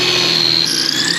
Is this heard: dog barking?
no